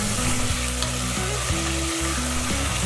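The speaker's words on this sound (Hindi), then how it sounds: "आलूओं को 1 मिनट तक चलाते हुए फ्राई कीजिए" Potato slices sizzle and crackle in hot oil with cumin and asafoetida for aloo katli, a loud continuous frying hiss with stirring scrapes and steady low tones underneath.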